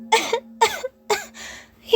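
A voice acts out a cough in a narrated reading of The Little Prince: several short, sharp forced coughs in quick succession, close and fairly loud over a faint steady hum.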